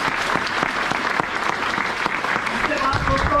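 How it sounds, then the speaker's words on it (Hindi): An audience at a business event in a hall claps loudly and continuously, a dense and steady burst of applause throughout with faint tonal sounds near the end. "जोरदार वाली तालियां जरूर करूंगा।"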